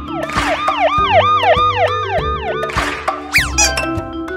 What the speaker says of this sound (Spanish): ¡El coche de policía!